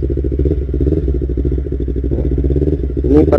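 Yamaha R25 motorcycle engine idling and running close by with a steady, throbbing rumble that swells slightly near the end; no speech over it.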